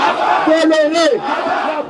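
A huge, mostly young crowd at a political opposition rally roars and chants together in a sustained, loud collective shout that rises and then tapers off.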